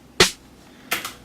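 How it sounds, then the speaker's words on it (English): Three snare samples layered and mixed together in FL Studio land as a crisp, punchy hit, then a second strike followed almost at once by a quicker echoing one. "I have 3 snares stacked on top of each other and mixed them together"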